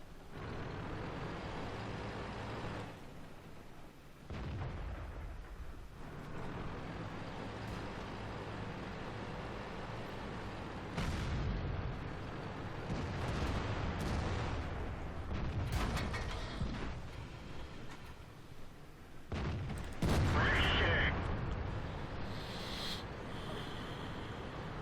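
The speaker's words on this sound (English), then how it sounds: "And they've got artillery, as you can see." Distant artillery shells from a World of Tanks battle, heavy booms and rumbling impacts recurring over a continuous engine-like drone, with a sharper, louder burst near the end.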